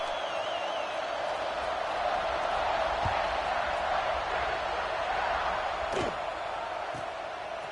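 A college football stadium crowd in College Football 26 buzzes as a steady, distant roar of many voices, constant and moderately loud, with a few faint thuds mixed in.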